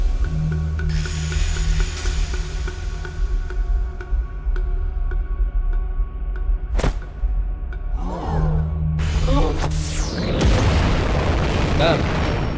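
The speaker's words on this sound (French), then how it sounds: "Bam. Explosion." A deep booming explosion in the action game Nine Sols, heard as a sudden burst followed by rumbling and crackling debris over continuous game music and sound effects.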